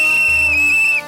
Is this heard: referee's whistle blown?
yes